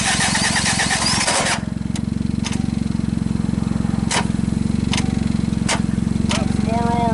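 A multi-cylinder engine run on orbeez, cranking and catching, then settling into a loud, steady, rapid close-up idle with sharp periodic knocks or pops over the running engine, and a brief voice near the end.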